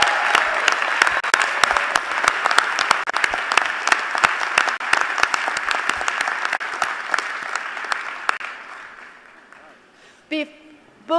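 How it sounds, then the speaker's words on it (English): A ceremony audience at a university president's installation applauds a graduating student, with loud, dense clapping and scattered sharp claps that gradually fade out, followed by a brief voice at the very end. "Please give Michelangelo a round of applause."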